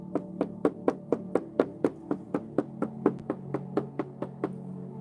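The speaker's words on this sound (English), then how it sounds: "The knock you've been hearing does not literally sound like this." Steady series of about twenty sharp knocks on a hard surface, evenly spaced and fairly close, with nothing else sounding.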